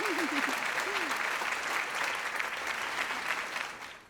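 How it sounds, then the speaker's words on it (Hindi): Girls applaud in a steady burst of clapping that lasts several seconds and fades slightly at the end, with a brief vocal sound near the start. "लड़कियां इसके लिए ताली बजा रही हैं बॉस"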